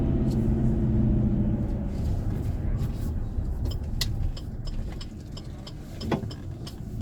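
A 2020 Great Wall Steed twin cab ute with a 2.4L petrol engine and five-speed manual climbs a hill in third gear, its steady low engine and road drone running throughout with faint ticking above.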